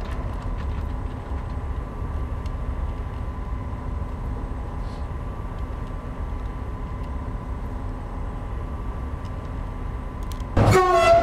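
A freight train runs through the Maurienne valley in Train Simulator 2018, with a steady low rumble and rolling clatter, then a sharp, loud horn blast near the end.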